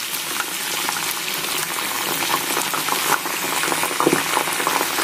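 Homemade herbal hair oil with curry leaves and aloe vera bubbling in a blackened iron wok, a steady close crackling simmer that holds throughout with no talking.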